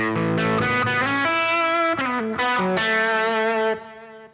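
Electric guitar notes played through a delay effect, each phrase followed by soft repeating echoes that trail on after the playing stops and fade out alone at the end.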